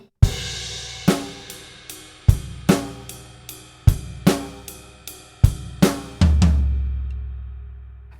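A drum kit plays the groove from bars 50-51 of a Grade 4 rock drum lesson piece: loud, evenly spaced hits with crisp cymbal wash, ending on a long ringing crash.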